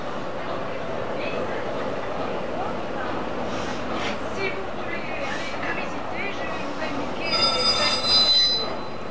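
An X-3800 Picasso diesel railcar arrives at the terminus of a rural branch line near Narbonne. A steady rolling rumble turns into shrill, high wheel squealing near the end as it slows.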